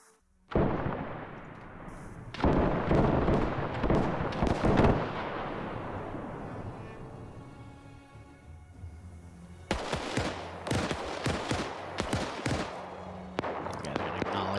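Gunshots in Arma 3 during a D-Day airborne operation: a few loud booming shots with long rolling echoes, then a tight cluster of sharp reports near the end, with no talk.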